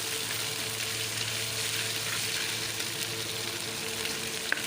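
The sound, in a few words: garlic frying in pan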